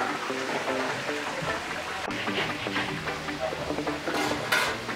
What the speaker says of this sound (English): It's just a big pot of oil that they're putting them back into to bathe with all that flavor